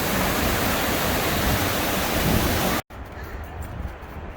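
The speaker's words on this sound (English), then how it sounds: "I like the sound of waterfalls." Waterfall at McHugh Creek, a broad steady roar of rushing water that cuts out abruptly, then returns fainter and more distant.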